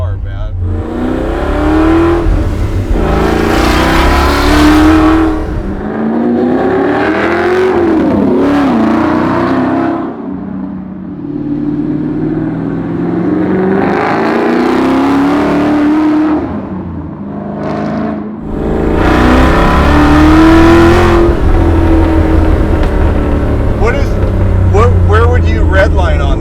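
A powerful 347 stroker V8 engine in a 1966 Ford Mustang revs up and down repeatedly, its deep exhaust roaring and falling between pulls, with voices talking over it.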